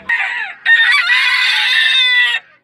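A Hatch gamecock rooster, a Brown Red cross, crows close by and loud: a short opening call, a brief pause, then one long sustained crow that trails off, with no talking.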